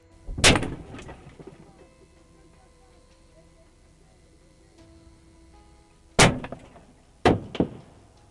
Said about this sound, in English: Suddenly, when he is out of his car, a gunshot hits the car.